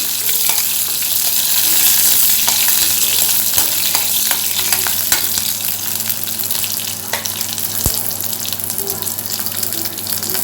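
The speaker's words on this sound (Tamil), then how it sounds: "பூண்டு போட்டு கருவேப்பிலையும் போட்டுங்க. கருவேப்பிலையும் போட்டு நல்லா வதக்கிடுங்க." Garlic and curry leaves sauté in hot oil with a steady, loud sizzle and frying crackle throughout, stirring scrapes and a few sharp pops rising above it; no talking.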